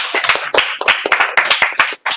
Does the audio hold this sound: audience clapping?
yes